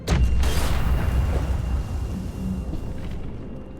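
A bomb explodes in the video game The Walking Dead: The Final Season with a loud, deep boom that hits at once, then rumbles on and slowly fades over several seconds, with no talking.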